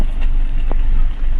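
A Renault Kiger driving off-road, a steady loud rumble of engine and road noise with wind buffeting throughout, close and continuous.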